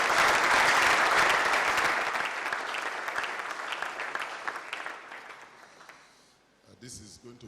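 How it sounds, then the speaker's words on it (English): Loud sustained audience applause at a formal Nigerian agenda-setting event, a dense wash of clapping that gradually thins and fades toward the end, followed by a brief faint voice. "Please give them a round of applause."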